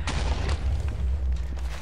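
Blocks blowing up in the game Minecraft, a loud continuous explosive roar with heavy low rumble and a couple of sharper bursts, filling the whole moment without speech.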